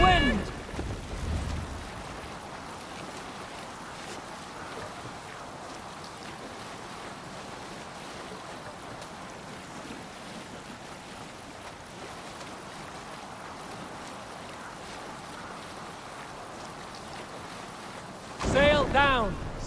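A Viking longship from Assassin's Creed Valhalla glides across the sea, with a steady wash of waves and wind noise running for many seconds and louder splashy bursts at the start and end.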